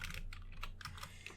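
Rapid, close keystrokes on a computer keyboard, a quick run of crisp clicks lasting just over a second with no voices.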